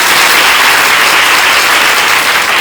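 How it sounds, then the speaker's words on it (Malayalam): Loud, dense applause from a large crowd at a birth-star anniversary festival celebration, sustained evenly and close throughout. "കുറച്ചുകൂടി വിപുലമായിട്ട് വേണമെന്ന് ആഗ്രഹമുള്ളവരൊന്ന് കൈയടിച്ചു കേട്ടാക്കൾ."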